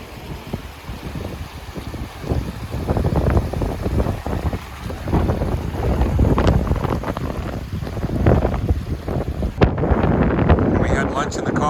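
Cold wind gusts across an open roadside near Beddgelert, Wales, buffeting the microphone with a loud, steady low rumble that swells and eases throughout.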